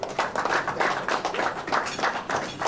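A small crowd claps for Her Excellency Hajia Zainab Nyamshikwaya at a 2008 gathering in Ghana: brisk, uneven hand claps, moderately close and fairly faint, with no voices over them.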